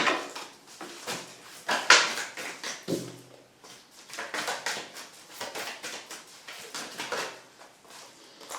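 Tarot cards are shuffled by hand in quick, uneven bursts of soft flicking and riffling, close and fairly quiet, with brief pauses between handfuls.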